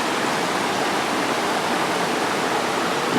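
Steady rushing roar of a river flowing beside a steep mountain trail on Doubletop Mountain, Katahdin area, loud, close and continuous with no talk.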